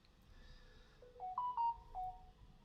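A mobile phone alert rings out during a live stream, a short series of clear electronic tones rising and falling over about a second, moderately loud over a faint background hum with no talk.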